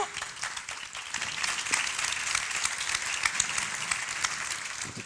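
Audience at a wellbeing congress bursts into applause, a dense, lively clapping that builds slightly and holds steady for several seconds.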